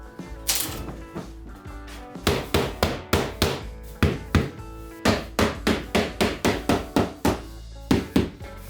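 Rapid hammer blows strike cedar floorboards being laid in a tatami room, sharp knocks repeating in steady clusters, close and fairly loud with no talking.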